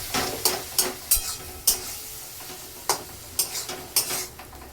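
Curry simmering in a pan sizzles as a little water is poured in and stirred, with scattered sharp spoon scrapes and bursts of hiss against a steady low bubbling, close and alone.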